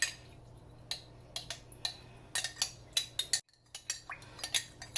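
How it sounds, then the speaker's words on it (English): A spoon stirs a vinegar mixture, making a quick run of sharp, close clinks and taps against the container with short gaps between them and a brief silent break near the middle. "I'm going to stir it up."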